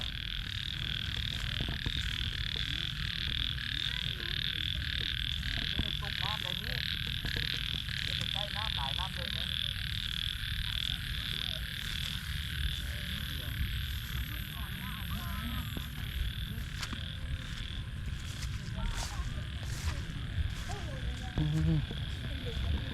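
Frogs croaking in a wetland near Bueng That Luang in Vientiane, Laos: a continuous chorus of repeated croaks heard at a distance, with faint voices of people talking and other background ambience.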